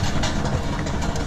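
Cold 5.0 V8-swapped Nissan 240sx drift car engine held around 2,000 rpm with a leaky exhaust, a brief, rough, throbbing rumble close by.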